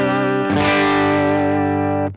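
Electric guitar through a Jackson Audio Prism boost and EQ pedal, one sustained distorted chord struck and left to ring for about two seconds before cutting off, loud and close with no talking.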